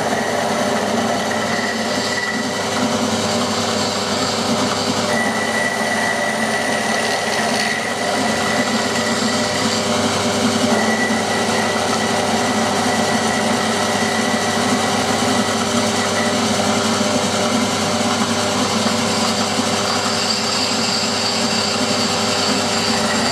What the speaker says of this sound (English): Now I can machine these two faces flat, turn it over, clamp it onto those two faces and bore that hole.